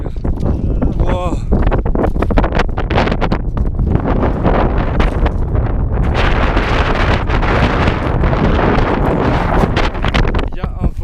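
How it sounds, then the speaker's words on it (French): Fierce wind buffets the microphone on a mountain summit along the GR20 trail, loud continuous roaring gusts that nearly drown out voices speaking in French. "Il y a un vent de malade les gars, malade mental."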